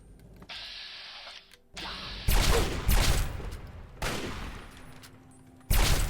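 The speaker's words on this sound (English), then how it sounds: "Shooting me with a hunting rifle." Hunting rifle shots in the video game Fallout 3, several sharp reports spaced a second or two apart over a steady hum of game ambience, each crack with a short booming tail.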